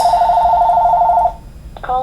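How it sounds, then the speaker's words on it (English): A telephone rings with an incoming call while work on game icons is underway: a steady electronic ring tone holds for over a second and then stops, followed by a brief different electronic chirp. "Alright, now I have a phone call."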